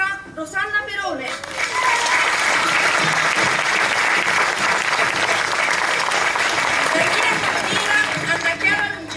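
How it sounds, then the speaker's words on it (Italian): Broad, steady applause from a theatre audience at a Neapolitan comedy stage show, rising after a brief voice at the start and sustained dense clapping throughout. "accoglieteli con un grande applauso"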